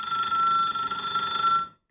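A telephone rings continuously on a Turkish daytime TV call-in show as a viewer calls in, a steady electronic ringing tone that cuts off abruptly near the end.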